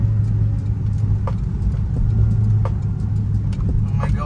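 A Toyota Corolla engine fitted with UL exhaust headers idles with a steady, loud low rumble and a few faint ticks over it, heard close with no talking.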